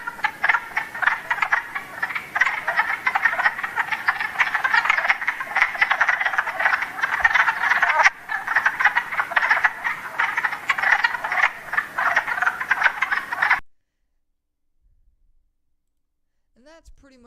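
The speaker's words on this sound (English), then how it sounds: "Let's load up the wood frog." Wood frogs call in a dense, continuous chorus of clucking, duck-like croaks from an April pond, steady and fairly loud for about thirteen seconds before cutting off abruptly into silence.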